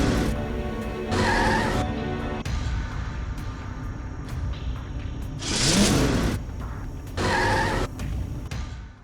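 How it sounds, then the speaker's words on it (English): The Fortnite bus pulls away in the Rock Bottom area, its engine rising and falling as it drives off, broken by a few loud, brief bursts of noise and whinny-like squeals. "no matter how patient you are, the bus will always leave before you have a chance to catch it"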